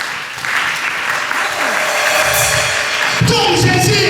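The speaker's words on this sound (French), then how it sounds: "Aide-moi à acclamer le Seigneur." A church congregation at an Easter seminar claps and cheers loudly for the Lord, sustained applause with scattered shouts and a voice rising over the crowd.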